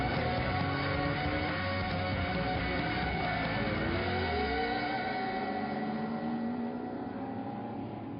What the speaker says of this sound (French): les redoutables Ford Capri RS imposaient leur puissance à une meute de BMW pourtant très